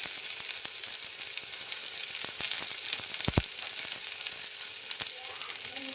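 Onion and cumin seeds sizzle in hot oil with a bright, continuous crackle while a spoon stirs them. Scattered scrapes and taps break through the frying, which stays fairly close and steady for several seconds.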